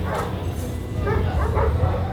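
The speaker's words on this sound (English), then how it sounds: "And there's a kennel full of puppies." Several puppies in a kennel at a desert dog rescue bark, yip and whimper continuously, loud and close, mixed over background noise and human chatter.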